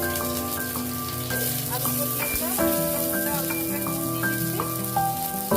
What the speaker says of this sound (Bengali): আলু এখানে আমি ডুমু ডুমু করে কেটে রেখেছি এই আলুগুলোকে আমি একটু ভেজে নিচ্ছি